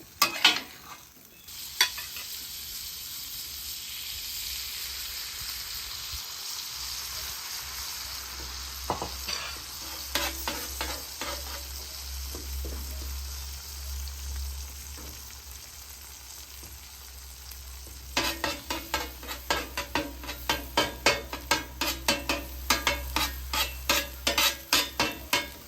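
Vegetables fry on a hot griddle in beef tallow left from a brisket, a constant hiss with a low rumble, then a run of rapid metallic spatula scrapes and taps near the end; no voices.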